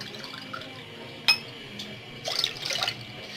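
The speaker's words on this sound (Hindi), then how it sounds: "इसमें आपने 2 कप पानी ऐड करना है" Water is poured into a cooking pot, about two and a half cups, for a home-remedy drink. A short splash sounds first, then a louder burst of pouring and splashing near the end. It is fairly quiet, with no talking.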